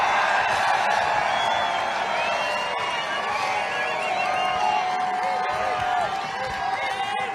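A fired-up crowd at a Trump campaign rally in Freeland, Michigan, cheers, whoops and claps in a steady, loud roar that fills the whole stretch, with some voices rising above the din.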